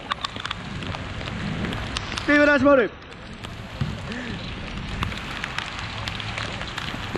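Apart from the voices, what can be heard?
heavy rain on an outdoor futsal court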